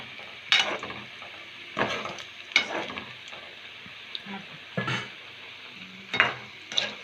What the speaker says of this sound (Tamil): கோல்டன் கலரில் ஃப்ரை ஆகட்டும், அது வரைக்கும் நம்ம வெயிட் பண்ணலாம்